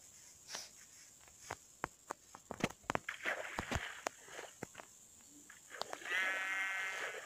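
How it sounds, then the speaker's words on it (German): Three sheep bleat in a few short calls amid scattered footsteps and rustling, fairly close, with no talk over them. "So, jetzt sind alle drei Schafe da."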